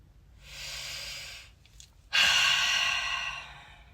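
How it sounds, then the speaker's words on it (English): Two deep breaths taken close to the mic: a long airy inhale or exhale, a short pause, then a stronger, louder rush of breath that slowly fades. "Deep breathing is essential."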